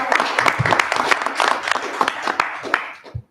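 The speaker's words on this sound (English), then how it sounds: "So we can give a nice little round of applause" A small audience gives a short round of applause at a community event hosted by a local innovation team, dense clapping filling most of the moment before stopping abruptly.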